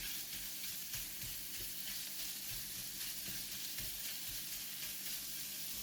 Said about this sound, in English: Next, put in the minced pork. Spread it over the oil around the pan.